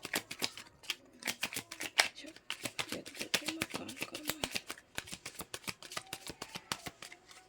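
Tarot cards being shuffled by hand in quick repeated riffles and taps, a dense crisp rhythmic clatter close by, with a voice talking faintly in the background.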